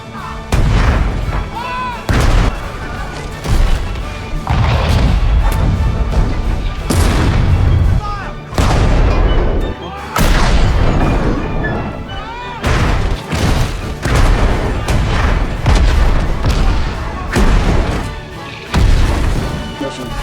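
A 155mm field howitzer fires in a rapid series of loud, heavy booms, each blast followed by a rumbling decay, with short gaps and overlapping reports across the whole stretch.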